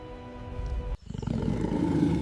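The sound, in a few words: Kong's roar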